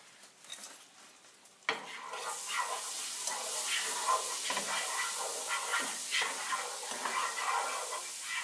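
Steady sizzling hiss of Cajun-seasoned food browning in a frying pan, starting after a short quieter stretch and continuing loudly with occasional stirring clatter.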